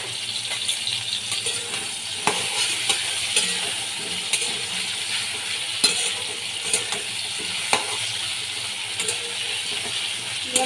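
Taro pieces with green chillies frying in a pan, a loud, continuous sizzle close by, broken by frequent sharp scrapes and clacks of a stirring spoon.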